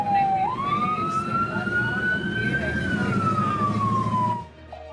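An ambulance siren wails on a highway overpass, one long rising and slowly falling tone sounding loud and close over road noise and traffic rumble before cutting off at the end.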